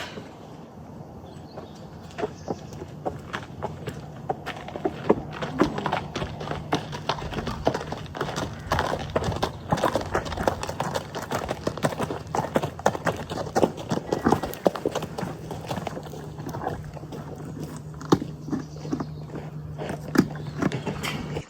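Horses' hooves clip-clop steadily on a hard surface, with occasional snorts and shuffling, continuous and close throughout.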